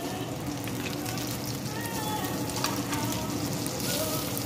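Butter sizzling and frying in a pan alongside filet mignon steaks, a steady dense crackle that holds at an even level throughout with no pauses.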